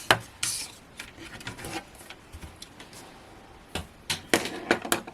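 Cardstock pieces are scored on a scoring board in short, dry scraping strokes, a few scattered rubs early and a denser cluster near the end, close and fairly quiet.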